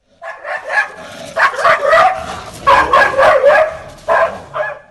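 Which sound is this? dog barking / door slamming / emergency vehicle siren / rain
dog barking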